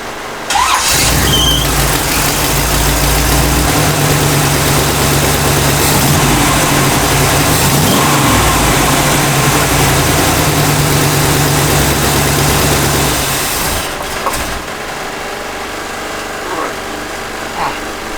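A 1965 Cadillac V8 with a newly fitted carburetor runs loud and steady at idle with slight revving for about thirteen seconds, then shuts off, leaving a faint residual hum.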